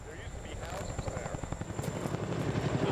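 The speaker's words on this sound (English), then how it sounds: "That's a Chinook helicopter. It's a medium lift helicopter." A Chinook medium-lift military helicopter passes overhead during flood relief, its rotor thudding in a steady, fast rhythm that grows slightly louder and nearer across the stretch, with a broad engine roar beneath the beats.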